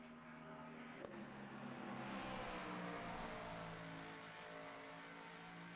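A Ford Mustang race car engine in a racing video game, the Nordschleife, holds a steady flat-out drone with layered harmonics, swelling slightly in the middle and then easing, heard alone without talk.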